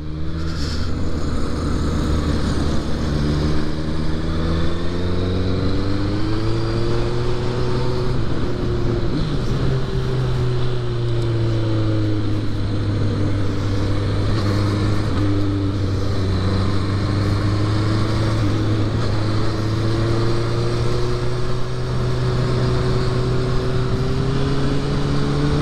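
Steady engine drone of a motorcycle riding, rising and falling in pitch as it shifts and accelerates, continuous and close, with no talk.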